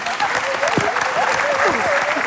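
Loud studio audience applause on a television show, dense continuous clapping with cheering and whistles mixed in throughout.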